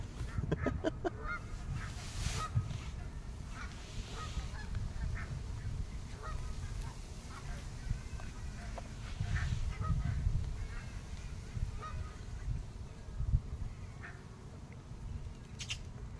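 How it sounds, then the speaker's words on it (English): Geese honk repeatedly outdoors at a fishing spot, a scatter of calls, some nearer and louder, others distant, over a steady low rumble of wind or water. "this is geese ASMR."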